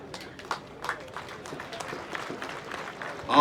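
A crowd at a political rally claps in scattered, moderately distant bursts, a loose patter of hands that rises briefly at the end, with no speech over it.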